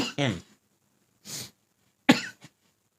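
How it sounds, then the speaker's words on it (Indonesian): Three short, dry coughs spaced apart in a quiet room, close to the listener, the last one sharper and followed by a small catch. "Kok batuk ya"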